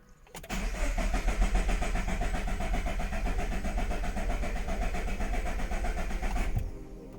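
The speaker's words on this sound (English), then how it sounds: "Okay, now it's cranked. I'm gonna start the car." A car engine cranks and turns over during an oil change in a steady, loud churning rhythm for several seconds, then cuts off abruptly near the end.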